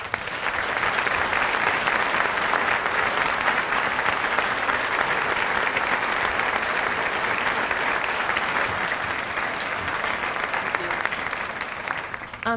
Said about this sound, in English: may I have a round of applause for all of these outstanding individuals